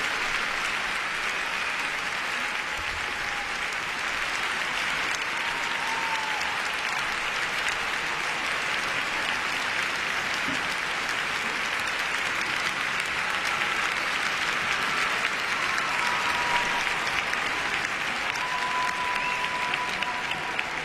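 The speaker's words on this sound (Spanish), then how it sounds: "Demos la bienvenida y un fortísimo aplauso a Megan Duhamel y Eric Radford." Audience applause at an ice skating show, a continuous, dense clapping from a large crowd filling the arena for about twenty seconds, steady and loud with faint scattered cheers.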